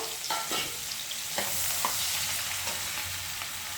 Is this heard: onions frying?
yes